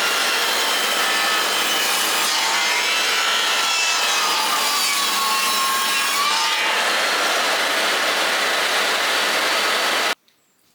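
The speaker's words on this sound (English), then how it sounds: "Need to cut a bevel on the bottom," A power saw cuts a bevel along reclaimed timber for a beehive strengthening bar, a loud, steady grinding whine lasting about ten seconds before cutting off.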